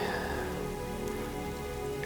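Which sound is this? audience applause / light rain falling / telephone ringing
light rain falling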